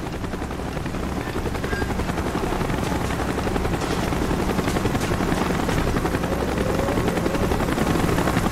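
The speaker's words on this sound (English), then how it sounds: "Chopper's inbound." Close, loud rotor thumping from a helicopter in the video game Call of Duty Black Ops, a relentless rapid chop over a deep rumbling wash that grows slightly stronger toward the end.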